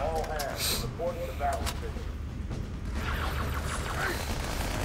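Gunfire from a Halo game on an original Xbox, a Magnum and an assault rifle fired together, with rapid cracks and booming blasts over a dense rumbling battle din.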